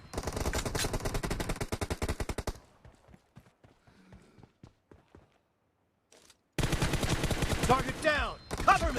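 Rapid bursts of gunfire in an arena shooter video game, loud and dense for the first few seconds, then a run of sparse single shots with quiet gaps before heavy firing resumes.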